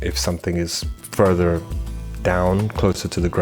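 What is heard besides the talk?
None of the usual background noises is heard.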